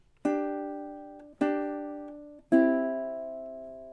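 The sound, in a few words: ukulele playing measure 13 of Day-O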